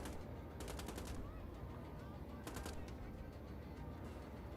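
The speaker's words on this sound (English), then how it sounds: "there's somebody else shooting at me" Automatic gunfire from the video game Wolfenstein: The Old Blood rattles in two quick bursts, the second shorter, fairly faint under a constant background rumble.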